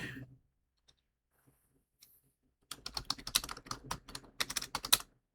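Computer keyboard typing in bursts of rapid, irregular clicks, fairly close and clear, after a few seconds of near silence with only a couple of isolated taps.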